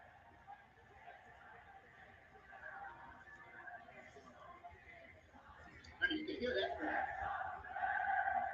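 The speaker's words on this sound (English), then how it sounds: "You can hear that crowd." A WWE SmackDown arena crowd roars and chants at a distance, building into a louder surge of cheering partway through and staying high to the end.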